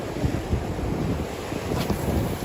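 Ocean waves wash in by rocks at a bass fishing spot with steady wind buffeting the microphone, a continuous loud outdoor roar with surges of surf.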